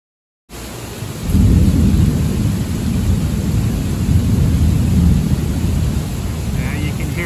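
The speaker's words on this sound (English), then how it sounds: "you can hear the thunder is still rumbling" Thunder from a severe thunderstorm rolls in as a deep, loud, sustained rumble over steady rain, swelling after about a second and lingering for several seconds before easing slightly.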